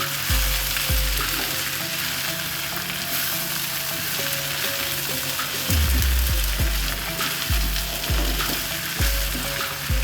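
Ivy gourd and grated coconut stir-fry in a pan with a constant crackling sizzle, broken by rhythmic low thumps and scrapes of stirring, loud and close.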